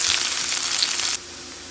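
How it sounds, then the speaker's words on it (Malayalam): Shallots, dried red chilies and curry leaves frying in hot coconut oil, a loud steady sizzle close by that drops abruptly to a quieter hiss near the end. "കടുക് പൊട്ടി വരുമ്പോൾ അതിലേക്ക് നമുക്ക് ഉള്ളിയും വറ്റൽമുളകും കരിയാപ്പിലയും കൂടി അരിഞ്ഞ് വെച്ചിരിക്കുന്നത് ചേർത്ത് കൊടുക്കാം"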